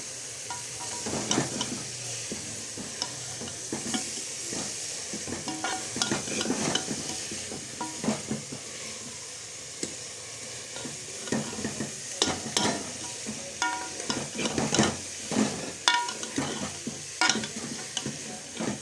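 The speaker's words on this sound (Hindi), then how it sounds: "हमारी भुनाई हो गई है चनों की।" Black chickpeas stirred and dry-roasted in a pan, with steady scraping and rustling strokes and a light sizzle throughout, close and fairly loud with no talking.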